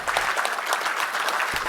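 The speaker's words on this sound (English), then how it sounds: "guest for the day, Dr. Bhaskar Chatterjee, with a big round of applause." Audience applause welcoming the chief guest at a conference opening ceremony, a steady dense clapping from a large crowd that fills the whole moment without a break.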